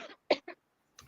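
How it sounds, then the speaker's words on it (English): Someone coughs several times in quick, dry bursts, two sharp ones close together followed by a softer one after a short pause, close to the microphone and without talk. "Give me a minute to get my own breathing under control so I'm not coughing during this thing."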